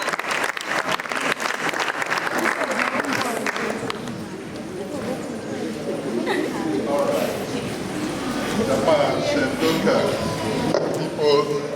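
Audience applauding in a hall at a language training closing ceremony, sustained clapping with crowd noise, voices talking over it and cheering that swells toward the end.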